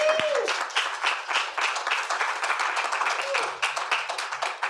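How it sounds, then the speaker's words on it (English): A room applauds at a domestic violence awareness panel, moderately dense clapping that rises and falls across the stretch, with brief voices mixed in. "Can we get another round of applause?"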